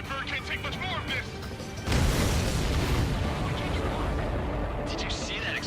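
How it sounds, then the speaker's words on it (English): A supply ship explodes in the Ace Combat 7: Skies Unknown flight combat game, a sudden heavy boom that rolls into a sustained loud rumbling roar, with voices heard over the top before and during the blast. "Did you see that explosion?"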